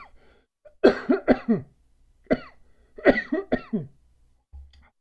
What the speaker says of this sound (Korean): 이렇게 수업할 때 말을 하면 기침이 나와요.